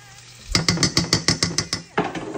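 Shallots, butter and mushrooms stirred in a pan: a quick run of about ten rhythmic scraping clicks of the spoon against the metal, over a soft sizzle, then a looser scrape at the end.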